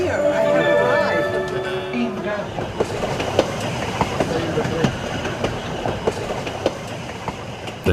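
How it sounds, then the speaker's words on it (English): A narrow gauge train runs along the rail line to Machu Picchu through the steep Urubamba canyon, making a close, steady rumble with rhythmic wheel clicks and faint squealing tones early on. "The train, love the train coming up here."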